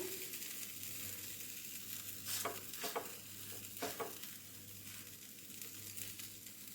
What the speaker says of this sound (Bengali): লো টু মিডিয়াম আছে আমি ভেজে নেব